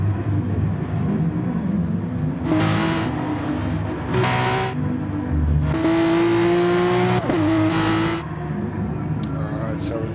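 A Porsche race car engine in a racing video game on the Dragon Trail Seaside track, a steady droning engine with several rising revving bursts and gear changes, under continuous commentary.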